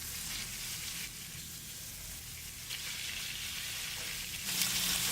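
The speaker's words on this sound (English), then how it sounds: "What we're looking for is a nice hard sear on these beef ribs." Beef short ribs sear in olive oil in a hot pan, giving a steady, close, hissing sizzle that swells slightly near the end, with no talk.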